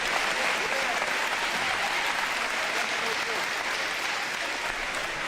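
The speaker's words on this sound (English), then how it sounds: "Give yourself a round of applause." A 2021 high school graduation crowd gives steady, sustained applause, a dense wash of many hands clapping for several seconds at an even level, with faint voices mixed beneath it.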